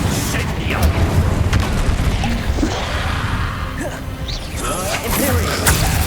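Spellcasting in the video game Hogwarts Legacy, with the Incendio fire spell among them: booming impacts, crashes and whooshing bursts of magic layered over a steady rumble, with speech-like sounds mixed in.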